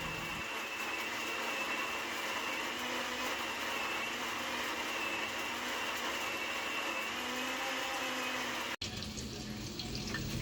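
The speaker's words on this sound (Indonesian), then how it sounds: "Dan ini aku mau blender dulu si bumbunya" An electric blender whirs steadily while grinding spice paste for sayur lodeh in a home kitchen, a continuous loud buzzing drone that cuts off abruptly near the end.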